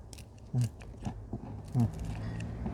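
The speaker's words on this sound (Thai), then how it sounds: "ฟังเสียงกรอบพี่น้อง" Crunchy food being bitten and chewed close up: two crisp crunching bites with a few smaller chewing crackles between them, quiet and fairly dry, with a faint voice briefly present.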